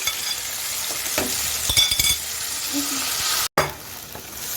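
Mustard greens saag being tossed into ghee with a garlic tadka in a pan, a close steady sizzle with stirring scrapes and a few clinks, cut by a brief gap of silence before the frying resumes.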